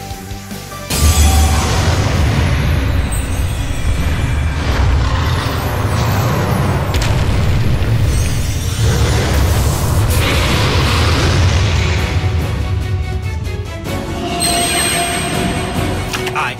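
Blue-Eyes White Dragon being summoned in Yu-Gi-Oh! Duel Links: a sudden loud booming burst gives way to a sustained roaring, rumbling effect with shimmering high tones, lasting the whole span before easing near the end.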